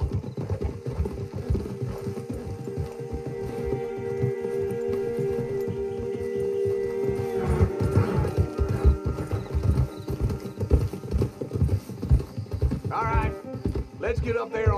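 Horse hooves clip-clop at a steady walking rhythm through the Red Dead Redemption 2 game world, with soft creaking tack and gear mixed in, and a brief whinny-like cry near the end.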